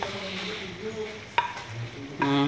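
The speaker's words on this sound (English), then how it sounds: "That's your base being mixed up with your tomato sauce" A stew base is stirred into fried tomato sauce in a pan, giving a soft continuous sizzle with a few sharp scraping knocks of the spoon, close by with faint background hum.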